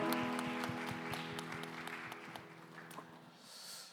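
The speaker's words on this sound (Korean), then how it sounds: "우리 박수하며 서로의 삶을 응원합니다" A church congregation clapping together during a Sunday young adults' worship service, fairly rhythmic claps under a lingering sustained musical tone that dies away as the clapping tapers off.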